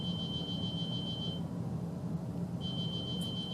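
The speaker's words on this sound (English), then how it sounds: "That would be my mailbox alarm going off." A mailbox alarm beeps with a steady high electronic tone, sounding for about a second and a half, pausing, then starting again over a constant low background hum.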